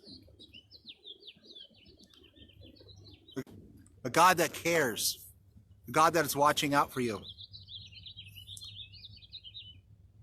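Birds chirp and tweet in the morning, a steady, fairly faint chorus of calls running under a voice, which speaks in two bursts in the middle.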